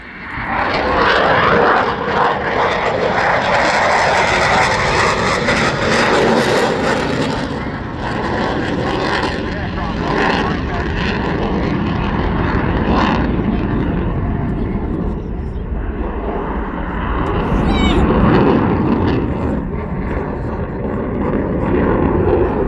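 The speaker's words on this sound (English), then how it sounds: "Surfaces of this stunning paint scheme for this year's solo display Rafale." A Dassault Rafale jet flies a solo display at an RAF Cosford airshow, its engine roaring loud and continuous with shifting, sweeping tones while a commentator talks over it.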